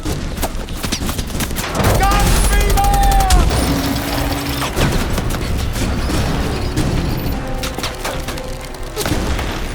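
Bursts of gunfire, booms and heavy thuds ring out during a chaotic vehicle chase in the action film Mad Max: Fury Road, loud and dense, with shouted voices and engine noise mixed in.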